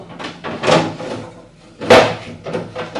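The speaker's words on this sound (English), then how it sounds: "I think I need to get the drawers out." Drawers being pulled out of kitchen units in an empty, newly bought house, heard as two loud scraping, rumbling slides about a second apart with softer knocks in between, and no talking.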